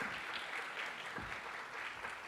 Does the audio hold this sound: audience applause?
yes